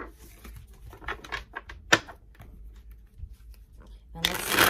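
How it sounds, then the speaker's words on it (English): Tarot cards being shuffled in a riffle pattern, with soft crisp bursts of card flutter spread through the stretch and a louder, denser shuffle at the very end, close to the mic. "Alrighty, let's get some tarot cards."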